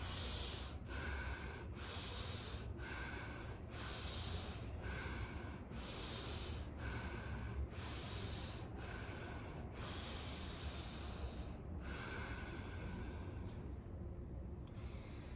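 Slow nasal breaths drawn in a steady rhythm, about eight close, airy inhales with brief pauses between them, alone with no talking, in a calm breathing exercise.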